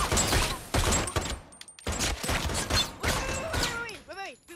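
Gunfire in a movie fight scene, with bursts of shots, thumps and mechanical clatter broken by short pauses, loud and close, with shouting voices mixed in.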